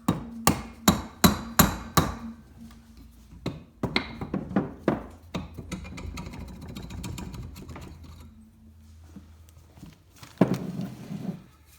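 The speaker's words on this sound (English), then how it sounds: "You can use a dead blow hammer." A dead blow hammer strikes the cylinder head of a vintage Polaris engine during teardown, in a run of loud, sharp, evenly spaced blows, then a second irregular burst of hits and a final cluster, close and dominant.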